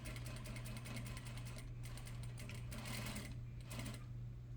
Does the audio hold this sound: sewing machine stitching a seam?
yes